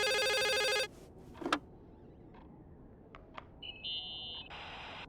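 A telephone rings in The Case of Rachel Foster, a loud electronic bell trill that cuts off, followed by quiet room noise, a few faint clicks and short synthetic beeps.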